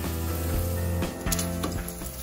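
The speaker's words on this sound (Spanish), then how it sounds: "el tocino se va a cocinar con su propia grasita" Bacon frying in its own fat in a hot pan, a steady close sizzle with a few scrapes from stirring, and no speech over it.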